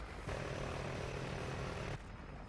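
A helicopter in the online team deathmatch game Call of Duty: Ghosts gives a steady, loud rotor-and-engine drone that starts abruptly, holds for well over a second, then cuts back to a quieter wash of noise.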